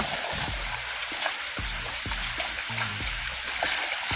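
Rain falls hard and steadily outdoors near a river, a broad close hiss of water with occasional splashing bursts, no voices.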